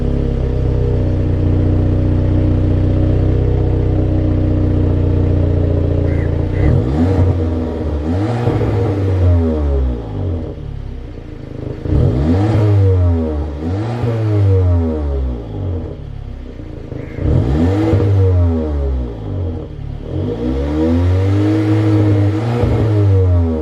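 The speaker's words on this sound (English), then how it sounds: "press the console mounted start button to start. Fires up no problem." The engine of a 2015 Audi A4 S Line runs at a steady idle, then is revved in four separate bursts that rise and fall sharply, close and loud in a quiet setting.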